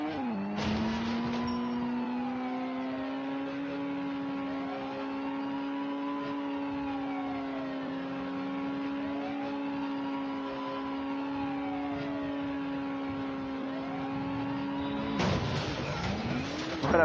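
A video game car engine holds a steady, rising-and-falling whine as the car drives on after flying off a ramp with police in pursuit, with short bursts of skidding noise at the start and end.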